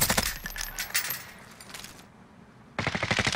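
Rapid automatic gunfire in the battle royale game Call of Duty: Warzone comes in close, loud bursts of quick rattling shots, falls silent briefly, then opens up again.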